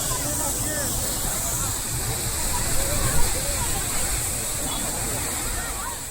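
Water roars in a steady, loud, continuous rush as it gushes high into the air from a damaged Veeranam pipeline, falling outdoors like a waterfall, with voices faintly audible under the noise.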